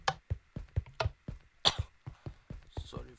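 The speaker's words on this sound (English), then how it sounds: "Sorry for the cough." Repeated harsh coughs in a rapid series of bursts, close and fairly loud, with a little speech mixed in near the end.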